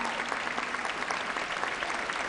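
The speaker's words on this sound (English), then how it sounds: "Give them a round of applause, please." Steady applause from the audience at a mayoral inaugural address at The Met in Philadelphia, a dense, even wash of clapping held throughout at moderate distance.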